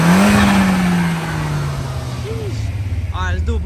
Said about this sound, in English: Audi A4. Let me hear the flutter.